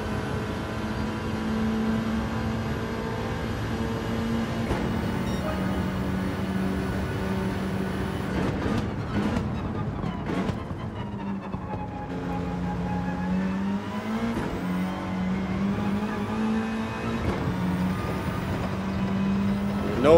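A car engine in the racing video game Gran Turismo 7 drones steadily throughout, its pitch rising and falling through gear changes in a lap race. The sound stays loud and continuous with no talk.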